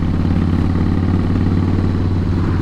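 A 2017 Harley-Davidson Slim S cruiser rolls along at steady speed, its low engine rumble and clattering exhaust pulsing loud and continuous throughout with no voices.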